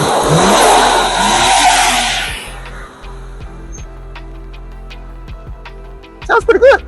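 A Nissan R34 Skyline GT-R, just fitted with new spark plugs, revs loudly and close by for about two seconds, then drops back to a quiet idle with faint ticks and clicks, and a brief voice is heard at the end.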